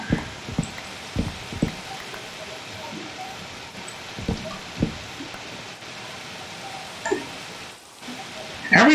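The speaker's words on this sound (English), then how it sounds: "Every time it rains, it sounds like something's just slowly stepping on the grass." Rain falling on grass in the game Minecraft, a steady hiss broken by irregular soft thuds and footstep-like taps, moderately loud, with no talk over it.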